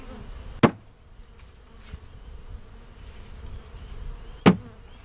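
Honeybees hum softly around an open hive whose lid holds comb, a low steady drone beneath two sharp, loud knocks or clunks spaced a few seconds apart.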